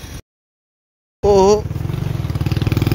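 A motorcycle engine rides through Naya Nazimabad, Karachi, on a bike tour: after a brief dropout, a loud, close engine surges in, then settles into a steady, pulsing rumble.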